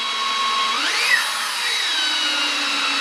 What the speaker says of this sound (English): It feels like you're sanding the cork.